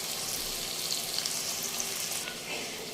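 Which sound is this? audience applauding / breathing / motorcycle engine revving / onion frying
onion frying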